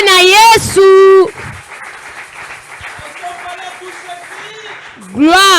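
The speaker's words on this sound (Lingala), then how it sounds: "Bakoki kobeta maboko makasi pona lokumu na Nzambe." A church congregation at a Sunday service claps loudly in praise, a dense sustained wash of applause running between bursts of amplified singing and speech at the start and end.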